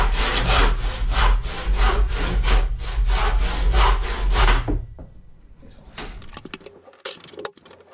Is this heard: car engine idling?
no